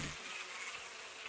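Bees buzzing around a hive in the video game Death Mark, a steady, fairly faint droning hum that holds unbroken throughout with no voices over it.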